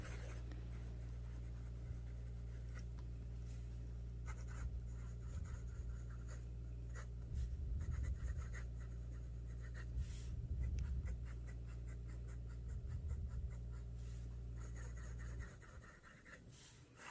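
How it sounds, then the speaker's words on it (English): Fine-nib Leonardo fountain pen writing on Moleskine paper, a soft continuous scratch of nib on page with brief strokes and pauses, close and quiet over a steady low hum. "I'm going to do a writing sample so you can kind of see what I'm talking about"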